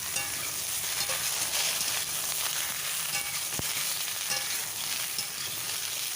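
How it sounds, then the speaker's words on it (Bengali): Ridge gourd stir-fried in mustard oil in a pan sizzles loudly and continuously at close range, with one sharp knock of the stirring utensil partway through and no talking. "তো আমি একটু তেল দিয়ে নেড়ে নিলাম।"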